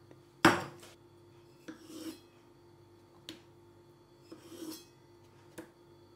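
Fish knife cutting through a pickle, a sharp first cut followed by several softer slicing and scraping strokes spaced out in an otherwise quiet room.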